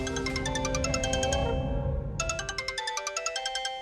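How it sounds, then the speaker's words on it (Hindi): An electronic doorbell chime rings indoors at home: a sustained melodic tone fades into a quick run of repeated bright dings, loud and alone with no talk. "शैतान का नाम लिया और घंटी बज गई।"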